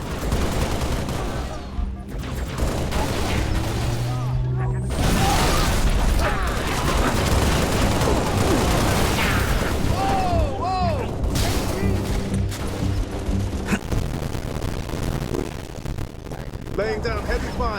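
Heavy gunfire fills a Halo Reach co-op firefight, sustained bursts and rattling automatic fire with explosions and mechanical clanks, loud and dense throughout, with voices calling out over the battle.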